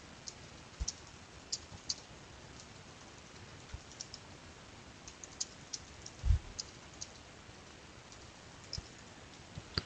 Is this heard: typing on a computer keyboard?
yes